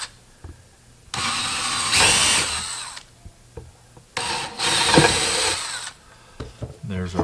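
Two bursts of a power drill boring through a bench top into scrap wood beneath, each a loud whirring run of about two seconds separated by quieter pauses with small knocks and handling noises.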